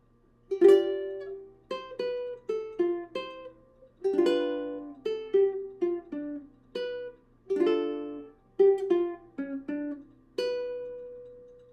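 A song is picked fingerstyle on a ukulele. Phrases of soft plucked nylon-string notes come in a gentle, halting rhythm, each note ringing briefly and fading. The playing is close and clear, with short pauses between phrases.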